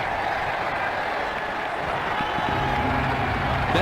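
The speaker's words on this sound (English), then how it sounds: "Well, he deserves the applause." Crowd applause in the video game Ashes Cricket 2009 greets a batsman's century, a steady wash of clapping and stadium crowd noise with a low hum rising near the end.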